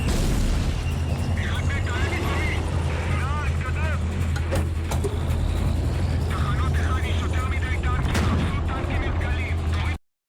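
Tank main gun booms from a war miniseries amid a dense, continuous roar of engines and clanking tracks, loud and close throughout, with voices shouting over the battle din.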